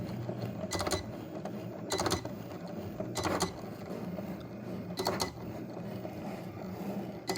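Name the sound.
Cricut cutting machine cutting vinyl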